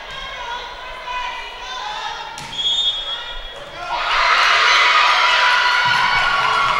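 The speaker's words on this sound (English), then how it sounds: "Pretty good crowd here right now for Big Rapids and Reed City." Crowd at a high school volleyball district match between Big Rapids and Reed City in a gym, murmuring under a commentator's voice before swelling into loud sustained cheering and shouting.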